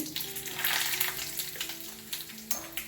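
Mustard seeds, cumin and chillies fry in hot oil for a tempering, giving a soft crackling sizzle with small pops, fairly quiet and without talk.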